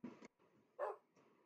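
A dog outdoors by a small doghouse being built, giving a few short, separate barks and yips at low volume with brief quiet gaps between them.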